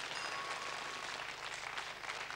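A German TV game show studio audience, Ruck Zuck, gives a steady wash of applause that stays even and fairly soft for the whole stretch, with no voices on top.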